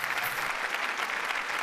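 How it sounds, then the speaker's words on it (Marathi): Dense, steady applause from a studio audience on a Marathi TV comedy show, a continuous wash of many hands clapping at even loudness with no voices over it. "जोरदार टाळ्या।"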